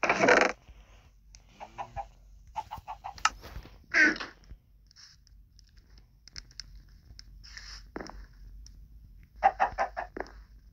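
Chickens cluck in the My Amazing World video game as four birds follow the player, giving short, separate bursts of clucking with quiet gaps in between. No one speaks.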